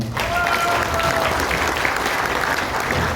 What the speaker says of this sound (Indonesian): Tepuk tangan buat para komisariat semua